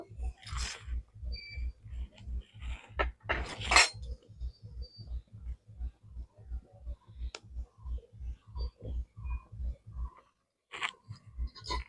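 A bowl and lid lifted and clinked in a kitchen while steaming vapa pitha, with scattered light clicks and clatters over a steady low rhythmic pulsing throughout, a brief quiet gap near the end.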